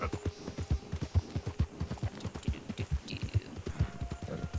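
Horse hooves clip-clop in a steady, even rhythm at a walking pace in Red Dead Redemption 2, close and moderately loud over a low hum.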